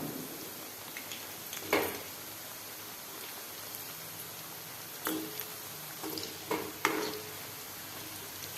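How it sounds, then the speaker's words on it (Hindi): Namak pare dough frying in hot oil, a continuous crackling sizzle like light rain with occasional louder clatters from the pan, close and without talk. "अब इसे हम फ्राई कर लेंगे उलटते पलटते हुए।"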